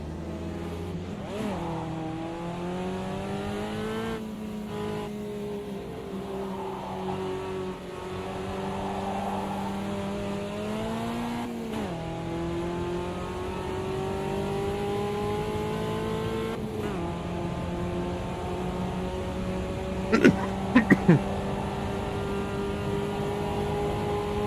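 A race car driven around a track in the Automobilista 2 racing game, its engine a loud steady drone whose pitch rises and falls through gear shifts, with a few short clicks near the end.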